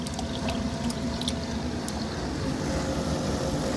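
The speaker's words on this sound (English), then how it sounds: "You can see that it's pushing water out right now." An irrigation pump primed by hand pushes water out on the downstream side, giving a steady churning motor drone with splashing flow and scattered higher clicks, continuous and fairly close.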